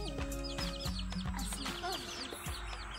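Chickens clucking at a house in Indonesia, with repeated short clucks and calls from several birds close by, steady and busy throughout.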